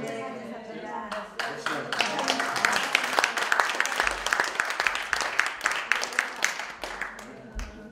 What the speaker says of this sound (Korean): 우리 심연 박사님한테 다시 한번 감사의 박수 부탁드리겠습니다